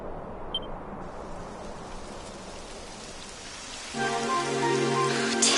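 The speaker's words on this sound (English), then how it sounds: "Typical. It would have to go and start raining, wouldn't it?" Steady rain hisses in a PS4 video game, a soft, even wash of falling drops that grows a little louder toward the end, where a tonal game sound joins in.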